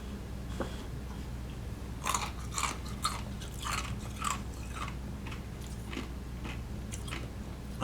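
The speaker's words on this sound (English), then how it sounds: "I'm chewing an ice cube." Someone chews an ice cube close to the microphone, giving a series of sharp, crisp crunches spaced irregularly over a low steady background hum, with no talking.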